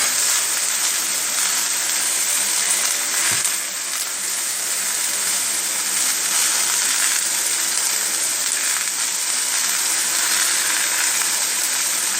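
Fish head and chopped vegetables frying in a pan for a Bengali yardlong bean dish, a steady loud sizzle running throughout with no voices.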